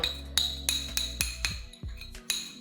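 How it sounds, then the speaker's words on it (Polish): A spoon stirs a homemade whitening toothpaste powder mixture in a glass container, giving about eight crisp, ringing clinks at an uneven rhythm, close and fairly clear with no talking. "I teraz dokładnie wszystko mieszam."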